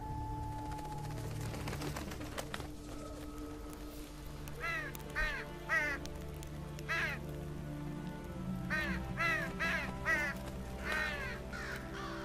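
Crows caw repeatedly in the Witcher 3 video game, a series of harsh, loud calls in clusters over steady rain and ambient game music, with no talk.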